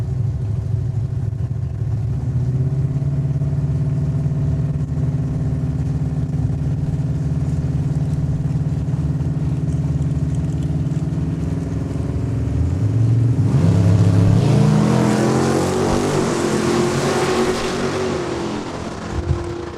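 A 1968 Mercury Cougar and a 1985 Chevrolet Camaro drag race at Saskatchewan International Raceway, their engines droning loud and steady before surging into a roaring, rising burst near the end.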